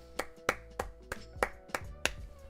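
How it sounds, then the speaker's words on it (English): Six soft, sparse claps spaced roughly half a second apart, each a short crisp transient over a faint background hum, quiet and close with no talking. "Golf claps."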